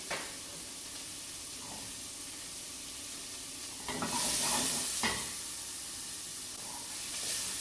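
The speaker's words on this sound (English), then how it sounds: "We're just going to start scraping the bottom and taking the colour off of there" Fennel, onion, carrot, celery and leek sizzle in a pan with bacon fat and a bay leaf as a spoon scrapes the browned bottom, a constant close hiss that surges louder midway with sharp scraping strokes.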